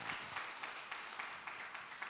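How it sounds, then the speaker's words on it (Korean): Congregation applauding during a children's Sunday service at a church, a steady, dense clatter of many hands clapping that fills the room evenly from start to finish. "박수를 보내주시면 고맙습니다."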